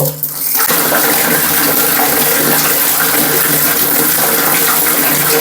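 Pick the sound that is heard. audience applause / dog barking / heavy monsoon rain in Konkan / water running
water running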